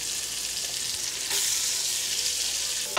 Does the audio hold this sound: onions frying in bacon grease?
yes